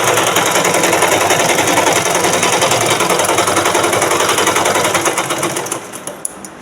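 Sewing machine stitching blouse fabric runs loud and continuous in a fast, even mechanical rattle, then slows and stops near the end with a few separate clicks.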